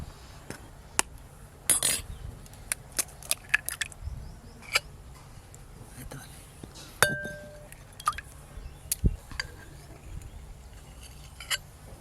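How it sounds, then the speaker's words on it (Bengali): Two eggs are cracked and their yolks separated for a fish pakora batter, giving sparse, sharp clicks and light taps against a glass bowl with small handling noises between. "এখানে দুটো ডিম নিয়েছি, ডিমটা ফাটিয়ে কুসুমটা আলাদা করে নেব"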